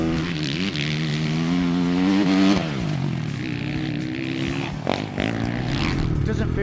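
A 450cc dirt bike engine revs and drones while being ridden, its pitch climbing then dropping with throttle changes, loud and close throughout, with a brief gear change or blip near the end.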